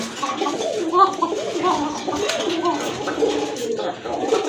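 A breeding pair of Kokka pigeons coos repeatedly in soft, throaty rolling calls, close by and overlapping with a voice speaking nearby.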